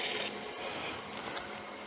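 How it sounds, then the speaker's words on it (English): Sandpaper rubs briefly against a wooden turned ring, a soft, steady scratchy hiss close by for under two seconds, with no talking. "Now I'll hit those with a little bit of sandpaper"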